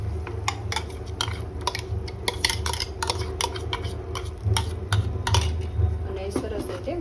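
A utensil scrapes and taps repeatedly in a pan as gravy is stirred into cooking galka (sponge gourd) sabji, a steady run of close metallic clinks over a low hum.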